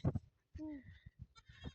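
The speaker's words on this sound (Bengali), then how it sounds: "এই যে একটা বেবি ছাগল" A baby goat gives one short, close bleat in a quiet setting, surrounded by soft scattered thumps and faint rustles before and after.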